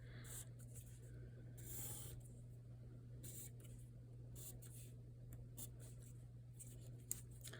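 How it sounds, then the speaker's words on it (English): Pencil scratching along the inside edge of a paper arch in short, faint strokes over a low, steady background hum. "I'm gonna just trace the inside of the outer edge of the arch to get my shape"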